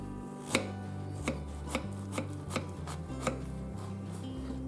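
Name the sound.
knife cutting a zucchini in half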